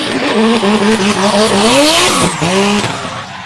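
A drift car at Meremere Drift Park slides through a qualifying run, its engine wailing and rising in pitch as the tires squeal, loud and close, with the revs dipping briefly before climbing again.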